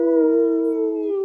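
A person's voice imitates a wolf howl, holding one long, steady, loud tone that tapers slightly at the end; no other sounds.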